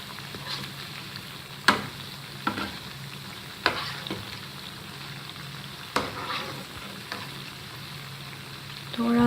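Shakkar paray fry in hot oil with a steady close sizzle and crackle, broken by several sharp clinks of a utensil against the pan, no talking.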